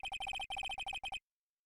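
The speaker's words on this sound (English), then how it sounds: "I know that song your phone plays when it rings?" A melodic phone ringtone plays a theme from the Phoenix Wright: Ace Attorney video game: quick, bright repeated electronic notes in short bursts for about a second, then silence.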